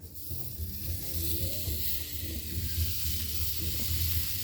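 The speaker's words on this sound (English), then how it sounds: "Hear that sizzle? That's what we want." Chimichurri steak sizzling on a grill, a steady close hiss of fat and meat searing continuously throughout with a low rumbling undertone and no talk.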